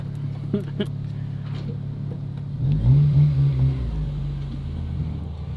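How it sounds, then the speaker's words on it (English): An 8th gen Honda Civic with a short shifter accelerates on a test drive, a steady low engine drone swelling into a louder rev midway through, heard from inside the cabin. "Going for a little test drive."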